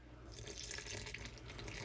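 Water trickles from a faucet into a bowl of sweetened pancake batter, a soft splashing pour with light drips, close by, steady and fairly quiet, with no talking.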